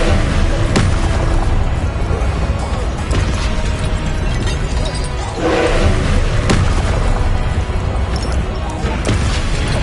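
Confringo fire spells exploding in the Hogwarts Legacy video game, loud booming blasts and thuds in irregular succession over a dense mix of combat noise, close and heavy, with a voice calling out spell names among them.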